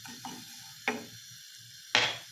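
Sesame seeds hit heated olive oil in a pan, sending up a sharp sizzling crackle, with two louder bursts of frying and soft stirring clatter between them, close and with no talk.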